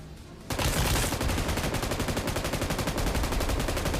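An M249 light machine gun fires loud, sustained automatic bursts in the BGMI battle royale game. The rapid steady rounds start abruptly after a half-second of quieter background and continue unbroken with a dense, close rattle.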